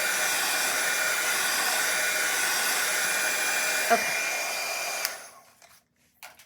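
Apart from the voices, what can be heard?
hair dryer blowing on watercolor painting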